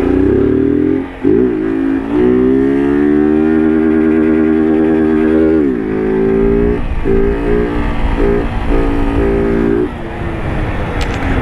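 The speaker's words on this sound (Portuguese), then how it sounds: "A moto cortou o giro e eu não coloquei a marcha." A motorcycle engine held at high revs bounces off the rev limiter, its steady buzzing tone repeatedly cutting out and recovering, loud and close, with no gear engaged.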